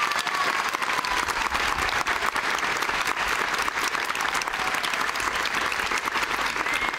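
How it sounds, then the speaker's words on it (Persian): A studio audience claps at a televised pantomime game show, producing a dense, sustained burst of applause that stays fairly even throughout. "تشویقشون کن"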